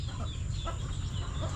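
Chickens on a farm cluck softly in the background, a few faint, brief calls over steady low ambient noise.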